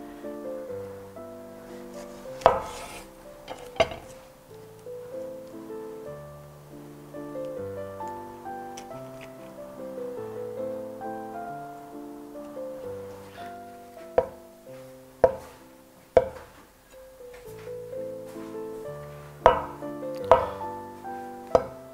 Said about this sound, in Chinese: 蛋豆腐呢，很多朋友切的时候容易烂，这里教大家一个方式，从中间直接切开